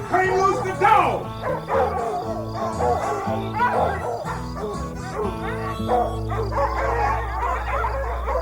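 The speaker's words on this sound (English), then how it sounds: "After 'em, boys, and turn loose the dog!" Dogs bark, yip and howl excitedly in a dramatized audiobook chase scene by a river at night, loud and overlapping, with raised voices shouting over the commotion.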